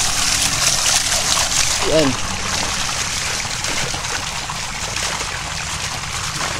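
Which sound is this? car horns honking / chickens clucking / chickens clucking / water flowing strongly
water flowing strongly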